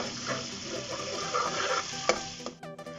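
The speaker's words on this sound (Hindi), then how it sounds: "सबसे पहले लहसुन अदरक का पेस्ट डाल दूँगी इसमें, और इसको हल्का सा फ्राई करके" Garlic ginger paste fries in hot oil in a kadhai with a steady crackling sizzle, plus a spoon scraping and stirring, a sharp clink near the end, no voices.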